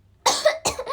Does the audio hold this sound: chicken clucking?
no